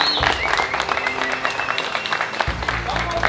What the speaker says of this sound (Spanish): banda, un aplauso para los finalistas